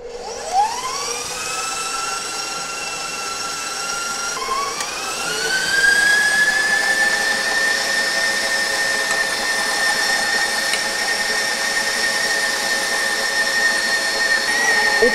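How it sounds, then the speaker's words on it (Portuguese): A stand mixer with a dough hook kneads chocolate panettone dough, a steady motor whine rising in pitch as it speeds up and then holding a loud, constant drone throughout, with no talking. "Se vocês forem utilizar a batedeira, ela vai tremer, ela vai sair do lugar."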